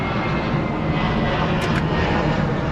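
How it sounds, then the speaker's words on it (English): An airplane passes overhead outside a Toyota Tacoma TRD Sport, its steady broad engine roar filling the whole stretch at a constant, fairly loud level with no voices over it. "a plane's going overhead"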